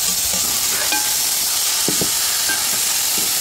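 Tomatoes go into a pan of turkey bone broth with drumstick, giving a loud steady hiss and sizzle with a few brief clinks and stirring knocks, no voices.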